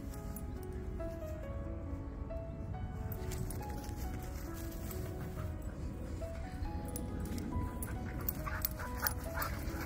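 Several dogs whimper and whine continuously, with occasional yips and short barks, fairly close and steady for the whole stretch, with no talk over them.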